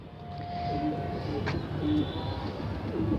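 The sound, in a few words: desi pigeons cooing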